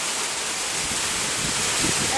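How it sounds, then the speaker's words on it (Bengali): Downpour with strong wind during a storm, a constant loud roar of rain, broad and unbroken, with a slight swell toward the end. "একেবারে ঝড় ঝড় তুফানের মতো"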